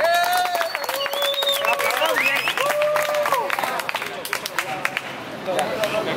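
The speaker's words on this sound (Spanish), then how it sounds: "Un fuerte aplauso, muchachos, para Oz versus Kruger." Audience at a rap battle clapping and cheering, with loud crowd chatter and whistles mixed into sharp, uneven bursts of applause close by.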